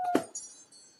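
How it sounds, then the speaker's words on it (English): A phone alarm set as a reminder to feed a puppy gives a short, bright electronic chime burst near the start, then fades to a faint ringing tail. "That's my alarm to feed my puppy"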